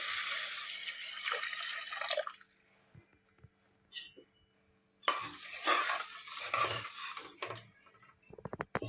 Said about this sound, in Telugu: ఇది కలుపుకొని ఇందులోకి 2 గ్లాసుల నీళ్ళను వేసుకుందాము.